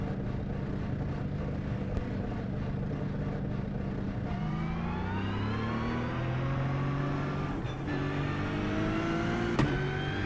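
An Aston Martin GT3 race car in iRacing at Bathurst drones steadily, then climbs through rising revs with upshifts, its engine tone sweeping upward, loud and continuous throughout with no talk.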